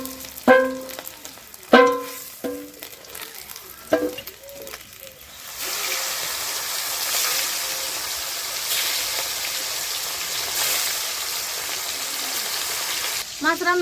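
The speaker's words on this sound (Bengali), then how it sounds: "আরও মাছ আছে ওগুলো ভাজে নিব" Fish, large sea koika fish, frying in oil in a home kitchen: a steady hissing sizzle takes over after a few clatters and utensil knocks at the start, continuing loud and even for most of the clip.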